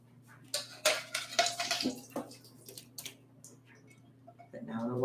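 Water strained out of a bowl in a home kitchen, with splashing and clattering bursts, a few pours and clinks at close range, over a steady low hum.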